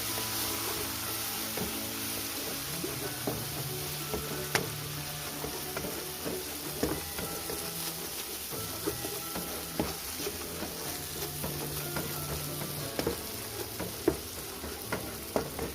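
Chicken curry fries in a pan while a spoon stirs it, giving a continuous close sizzle broken by scattered scrapes and clicks of the utensil against the pan throughout.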